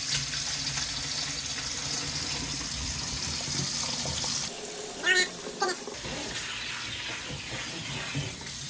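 Water splashes and pours steadily as cooked pasta is drained for a high-protein meal prep, a continuous near rushing that briefly dips and sputters midway before resuming.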